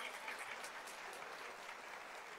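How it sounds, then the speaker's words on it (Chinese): Warm applause from an audience at a Chinese education gathering, steady dense clapping held at an even level throughout, somewhat distant and quiet. "掌声好吗？"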